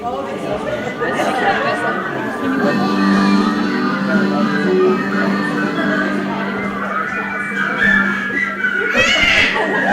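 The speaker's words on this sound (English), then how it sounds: "Now everybody whistle." A church congregation whistles together during a Family Sunday service, a loose mass of high, wavering whistles rising over steady crowd chatter and scattered laughter that fill the whole stretch.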